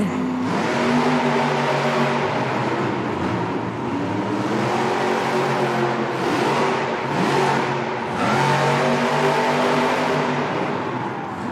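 The Grave Digger monster truck's engine roars continuously as it races in an indoor arena at a Monster Jam event, revving hard and holding a loud, steady drone with shifting pitch.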